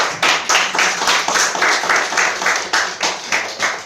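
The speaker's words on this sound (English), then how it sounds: "Can we hear a round of applause?" Audience at a Toastmasters workshop claps in unison, about a dozen loud, evenly spaced rhythmic claps, close and with no talk over them.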